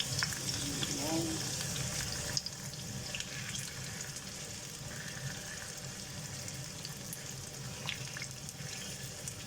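Pork and potato pieces for pork kaldereta frying in a pan, a continuous low sizzle with soft stirring and scraping, fairly quiet throughout.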